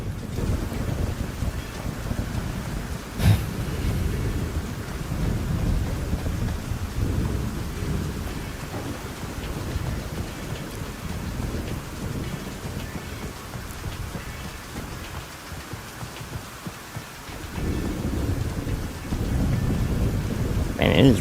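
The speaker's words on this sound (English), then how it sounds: "And it is raining a lot." Heavy rain pours steadily in a Roblox game, broken by a sharp thunderclap early on and deep, rolling rumbles that swell and fade across the scene.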